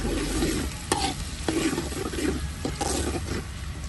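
Finely chopped medium onions frying in a pan for a Punjabi turnip and chicken dish, a steady broadband sizzle with a few sharp spatula stirs and scrapes against the pan, close and continuous.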